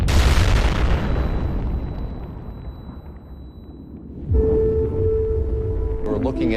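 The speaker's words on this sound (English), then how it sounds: "Oil and gas escapes from the wellhead and rushes up to the platform, where the gas explodes." Gas explosion on an offshore oil platform after oil and gas escape from the wellhead: a loud broadband boom that slowly decays into rumble, then a second burst of roaring sound with a steady tone.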